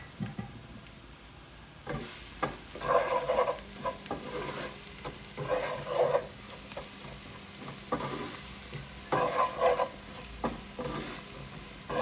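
Meat samosa filling with spices frying on low heat, a steady soft sizzle with intermittent stirring scrapes and clatter in the pan, close and moderately loud.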